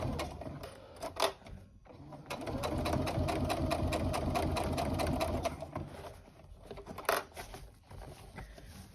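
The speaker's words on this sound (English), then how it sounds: "you're going to sew down, get that clip out of the way, at about a 1/4 inch seam allowance" A sewing machine stitches a quarter-inch seam on a tote bag in quick rhythmic bursts: a short run, a pause, then a longer steady whirring stretch of stitching, with small clicks and clatters between. Close and clear, no voices.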